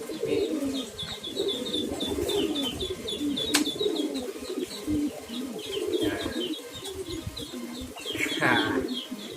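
Pigeons coo low and soft amid a busy loft, with repeated high chirps from other birds and occasional wing flaps, steady and moderately near.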